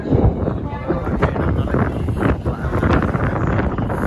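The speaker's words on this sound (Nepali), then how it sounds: "कस्तो हावा पनि चलिरहेछ" Gusty wind roars and buffets the microphone, a low, rough rumble that swells and eases throughout.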